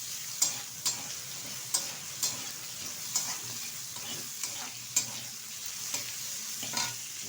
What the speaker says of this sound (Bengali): এখন বেগুনের সাথে আমি ভেজে নিচ্ছি।